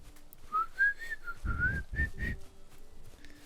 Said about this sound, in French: je tentais de siffler, c'était pas très concluant